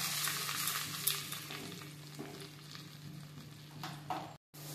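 Tomato, ginger and green chili paste fries in hot oil with a steady, close sizzle. Soft stirring scrapes sound throughout, then comes a brief cut-out near the end.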